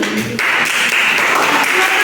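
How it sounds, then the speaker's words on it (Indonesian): A crowd of people clapping steadily, a continuous burst of applause filling the room for a couple of seconds. "Tepuk tangan dulu."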